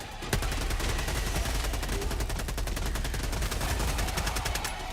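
An MG sentry machine gun in Helldivers 2 fires a long, steady stream of rapid rounds with an even mechanical rhythm, loud and continuous for nearly five seconds with no talk.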